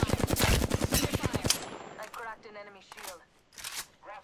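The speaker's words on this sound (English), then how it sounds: "Nice shot, Loba." Apex Legends gunfire bursts out in a fast automatic rattle for about a second and a half, loud and close, followed by game sounds and a brief spoken voice.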